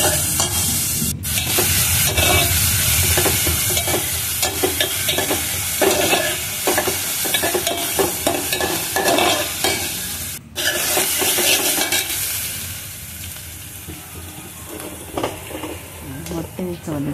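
Onions and coriander leaves fry loudly in a pan for an egg palya, with continuous sizzling and repeated scraping stirs close by and no talk.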